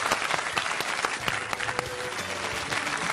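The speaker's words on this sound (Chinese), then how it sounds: "那欢迎一下吧， 掌声欢迎。" Audience applause fills a TV health talk-show studio, a dense steady burst of clapping at full level throughout, with no talk over it.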